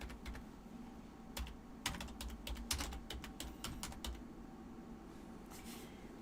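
Typing on a computer keyboard, with a quick run of sharp clacking keystrokes in irregular bursts at moderate closeness over a low steady background hum, no voices.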